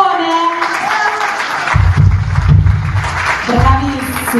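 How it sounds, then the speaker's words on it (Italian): An audience applauds the drum course students of maestro Atanasio Mazzone at a 2024 drum recital in Canosa di Puglia. The clapping bursts in loud and dense after fading musical tones and carries on near and steady, briefly dipping before swelling again. "lo vogliamo fare un applauso a tutti i ragazzi del corso di batteria del maestro Atanasio Mazzone"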